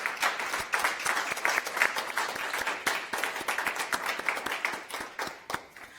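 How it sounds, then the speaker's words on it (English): A modest audience at an Evanston city clerk candidate forum claps for the candidates, with distinct individual claps forming a steady patter that eases off near the end. "Please, audience, let's give them a round of applause for their thoughtful answers."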